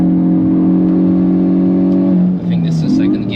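Hyundai i20 N hot hatch engine revs loudly on the Nürburgring, a steady droning pull heard from inside the car, dipping briefly as the revs are matched, with a voice talking over it.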